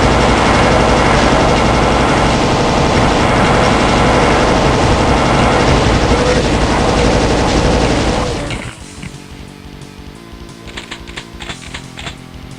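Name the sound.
plasma weapon firing cells, Doom map Slaughterfest 2012 video game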